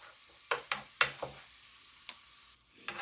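Pork or lamb chops frying in melted butter in a skillet, stirred around with a few distinct scraping and sizzling bursts over a low steady frying hiss.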